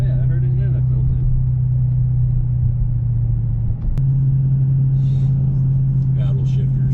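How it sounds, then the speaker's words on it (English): Supercharged 2016 Dodge Challenger SRT Hellcat under throttle, a deep steady engine drone and rumble heard from inside the car, with a brief shift-like dip midway and faint voices over the top. "when you get on the throttle, you can really hear it start sucking that air"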